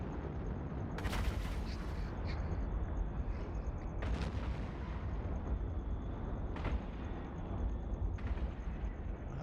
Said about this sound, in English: let's go ahead and start firing